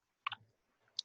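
Two quick computer mouse clicks on a BLAST link, a soft double click followed by a sharper single click a moment later, close and isolated in a quiet room.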